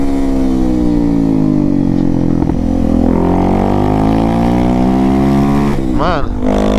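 Motorcycle fitted with a Dore exhaust without its filter revving steadily, a loud throaty drone with rising and falling pitch and a sharp blip near the end, close to the bike.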